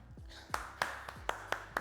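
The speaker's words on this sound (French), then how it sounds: "applaudissez-vous, bien joué" After a kickboxing workout, a few people clap in a sparse, uneven series of about six separate claps, close and fairly quiet, with low voiced sounds beneath.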